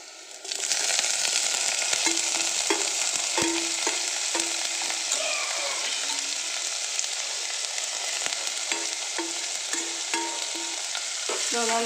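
Mashithandu (peperomia) tossed into browned onions in a pan, giving a steady, close sizzle of frying with repeated scraping knocks of a spoon stirring throughout, no voices.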